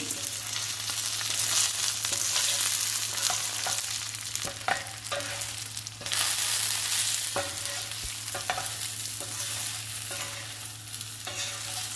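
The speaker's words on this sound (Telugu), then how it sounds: "ఇప్పుడు అన్నీ కలుపుకుందాము వంకాయలు కొబ్బరి కారము శనగపప్పు పొడి అన్నీ కలుపుకుందాము" Brinjal stirred in a pan with coconut chili powder and chana dal powder, a steady sizzle running under repeated scraping spoon strokes, close and continuous throughout.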